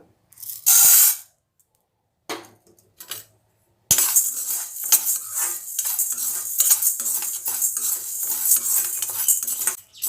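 Chana dal roasts in a pan over a medium flame. After a few short bursts of scraping and near silence, steady dry rattling and scraping of the lentils being stirred takes over, close and continuous.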